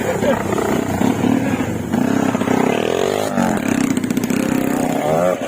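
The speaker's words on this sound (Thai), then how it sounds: "เร่งเครื่องหน่อยเร่งเครื่องหน่อยเว้ย" A motorcycle engine revs loudly and roughly up close, rising and falling, while people shout over it.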